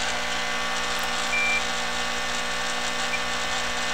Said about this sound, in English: so we'll double check with our multimeter